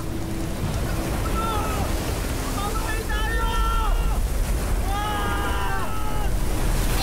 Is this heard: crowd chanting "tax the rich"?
no